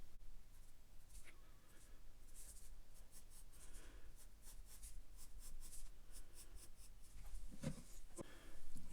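Pencil sketching on paper, soft scratchy strokes in quick irregular bursts, close and faint, with a few louder scrapes near the end.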